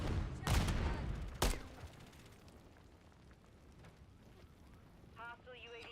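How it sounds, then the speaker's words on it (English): Stun grenade detonating in Call of Duty: Modern Warfare 3 multiplayer, with a couple of loud bursts early on followed by lingering game ambience and a short voice line near the end. "Stun grenade out!"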